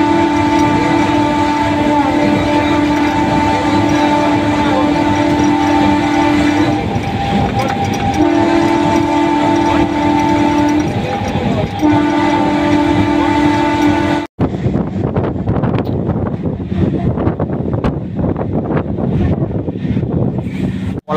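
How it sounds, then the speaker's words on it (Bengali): A Lalgola MEMU special train pulls away from a rural station with a long, loud horn sounding in three sustained blasts. The horn then gives way to a rumbling, rattling run of wheels and carriages. "ট্রেনটা ছেড়ে দিচ্ছে"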